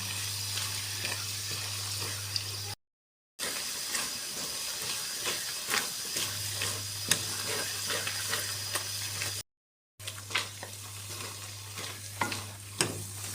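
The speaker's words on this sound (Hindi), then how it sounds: "इसी तरह हमने घी में इसको अच्छी तरह भूनना है।" Potato halwa is stirred and fried in ghee, a soft continuous sizzle with spoon scrapes and light clinks against the pan, close and low in level under a faint hum, broken by two brief silences.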